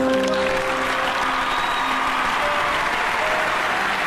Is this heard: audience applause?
yes